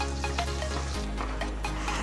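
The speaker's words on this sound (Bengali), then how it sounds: "মাছগুলো ভালো করে ভেজে নিচ্ছি।" Four pabda fish frying in oil in a kadai give a steady, close sizzle, with faint stirring scrapes and no talk.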